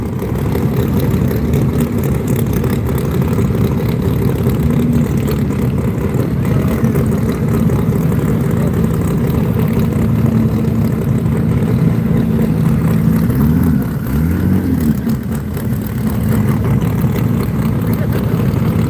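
A Ford Mustang drag car sits in the staging beams at a drag racing event, its engine idling loud and steady with a constant rumble and a brief dip near the end, with no talk over it.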